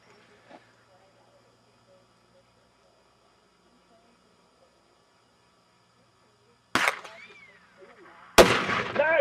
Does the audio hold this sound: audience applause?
no